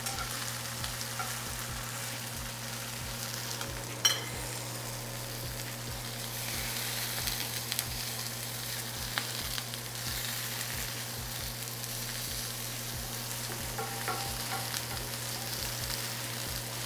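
Tofu frying in a hot cast iron pan for takeout-style fried rice, a steady low sizzle running throughout with a faint hum and an occasional small tick or clatter, no talk.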